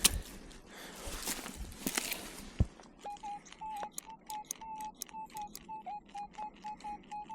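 After some rustling and scraping, a metal detector over an opened dig hole emits a repeated series of short, clear electronic tones in a steady pulsing rhythm, reading 85-90 on a deep target.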